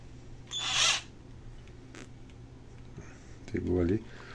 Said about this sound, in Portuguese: Então eu vou vir com a minha furadeira, parafusadeira aqui, e vou alargar esse furo com cuidado para não machucar o dedo